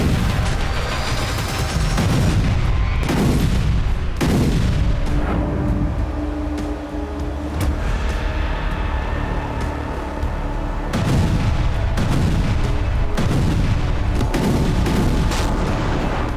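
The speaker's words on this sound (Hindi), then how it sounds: "जमीन धमाकों से दहलती रही" Repeated heavy blasts and artillery fire in the Ukraine war, striking Kryvyi Rih and other areas, boom loudly in irregular bursts with rumbling decay between them, no voices heard.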